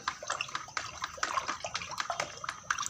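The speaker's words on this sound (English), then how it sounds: "Every morning and evening stir it like this about 30 to 40 times properly" A liquid mixture in a container is stirred by hand in a quick, steady rhythm, giving soft, close sloshing and swishing strokes at low volume.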